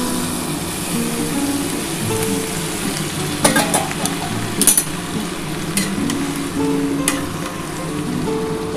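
Peas being fried and stirred into a chicken chickpea masala, a continuous close sizzle under a low background hum, with a few scraping stirs and clatters near the middle and later on, no voices.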